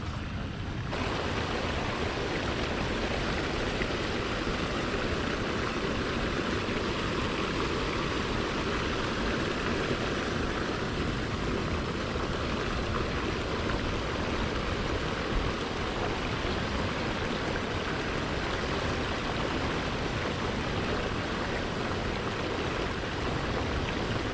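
Storm runoff rushing over the top of a pipe in an orchard, a loud, continuous broadband roar of flowing water, close and unbroken, with no voices.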